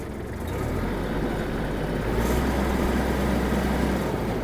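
A Kubota GL-29 mini tractor engine rumbles steadily up close, its low diesel drone rising slightly in intensity partway through as the revs are pushed higher.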